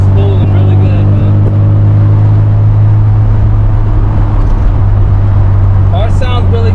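A Mazda RX-7 FD with twin turbos cruises in fourth gear, its loud, steady engine drone holding a constant low pitch from start to finish, close and continuous, with faint turbo whistle rising near the end.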